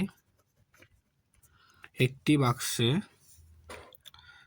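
A pen scratches out numbers by hand during a fourth-grade math lesson on chocolates in boxes, soft strokes partly under a teacher's speaking voice.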